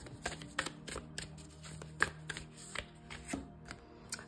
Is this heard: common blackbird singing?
no